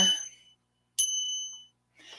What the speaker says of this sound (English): This is a traditional bell called a shang